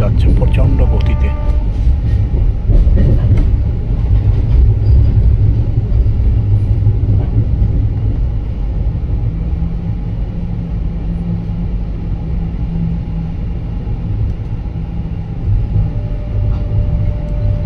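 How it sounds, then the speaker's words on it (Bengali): A train pulling away from Borpali station and running at high speed, giving a loud, steady rumble and rolling roar that holds throughout with little change. "আবার ট্রেন সামনের দিকে এগিয়ে যাচ্ছে প্রচণ্ড গতিতে।"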